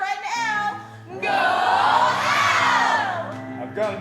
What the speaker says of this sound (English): we're just cheering on our friend Elle. Go Elle!